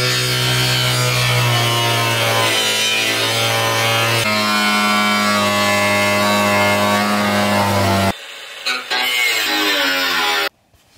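An angle grinder fitted with a new disc trims the wood stove opening in an off-grid shipping container cabin, a loud, steady, close whine that runs for about eight seconds before cutting off, followed by a few brief clatters.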